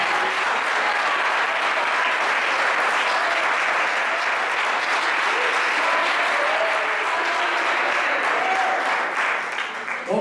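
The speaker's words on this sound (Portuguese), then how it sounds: "Ele é digno de ser aplaudido" A church congregation applauds in worship, producing sustained, even clapping from a large group that holds steady and loud for about ten seconds, with faint voices mixed in.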